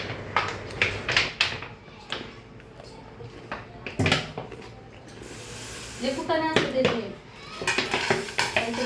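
Pots, pans and steel dishes being scrubbed and washed by hand in a home kitchen, with irregular close clanks, scrapes and rattles and short scrubbing bursts, while a person talks over part of it.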